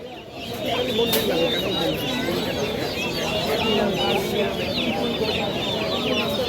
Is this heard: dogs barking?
no